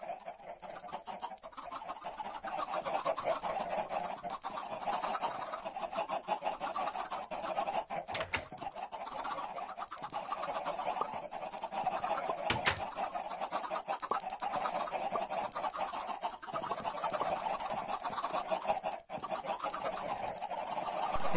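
Minecraft chickens cluck and coo in repeated soft bursts over a steady, muffled game-audio bed, quiet and a little distant, with no speech heard.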